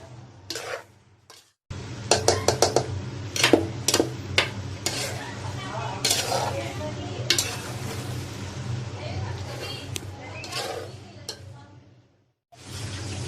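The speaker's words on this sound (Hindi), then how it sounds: "मैकरोनी ऐड करेंगे। और इनको मिक्स कर लेंगे।" Macaroni being stirred into chicken and vegetables in a cooking pot: repeated scraping and clinking of a spoon against the pot over a soft sizzle, with brief quiet pauses at the start and end, no speech.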